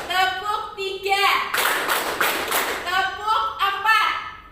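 Hands clap in a steady counted rhythm among a group, likely a classroom of children, with bright sharp bursts running through the middle and fainter tonal voices around the claps at the start and end.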